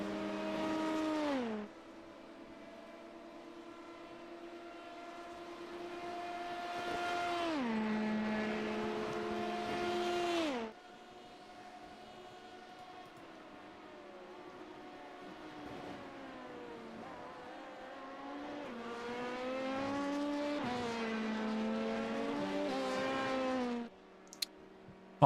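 Race cars, including GT3, LMP2 and GTP classes, lap the Le Mans circuit in a racing video game, with steady high engine whines that rise and fall through gear shifts, heard close and continuous.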